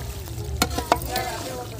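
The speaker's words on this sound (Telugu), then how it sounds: "ఒకసారి ఇలా మిక్స్ చేసుకోవాలి." Chicken curry with fresh coriander being stirred in a pot over a low simmering sizzle, with a couple of soft spoon knocks and scrapes in a brief, close take.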